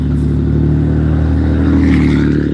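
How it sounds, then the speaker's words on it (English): A truck passing on a road, heard as a loud, steady engine rumble and roadway drone that swells slightly toward the end of a short stretch. "Let this truck pass."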